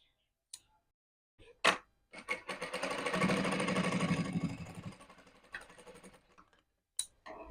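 A sewing machine runs in a steady mechanical burst of close stitching on salwar fabric, starting after a few short taps and clicks, then slowing and stopping, followed by scattered handling knocks.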